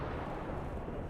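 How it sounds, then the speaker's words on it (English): A deep, rumbling explosion in Mass Effect 2, loud and sustained as a dense low roar filling the whole moment without pause and with no voices over it. "They exploded him."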